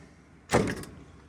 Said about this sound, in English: Still gotta slam the door to shut it.